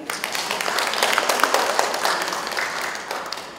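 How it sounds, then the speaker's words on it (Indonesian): An indoor audience claps in applause for the chairwoman at a Ramadan gathering, a dense, moderately loud patter of many hands that holds steady and thins toward the end. "Saya mohon satu kali saja aplaus untuk beliau"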